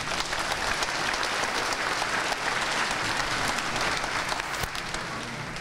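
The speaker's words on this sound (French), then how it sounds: "nous les applaudissons" A church congregation applauds a choir, a thick, continuous burst of clapping from many people filling the space, loud and steady before tapering slightly at the end.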